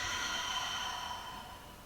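A long, airy exhale through the nose during a power vinyasa yoga session, a steady breathy hiss that slowly fades, with no talking.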